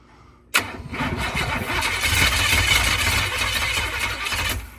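Old classic truck engine cranking briefly then catching and running, a loud sudden start followed by a steady rough idle that holds to the end, close by.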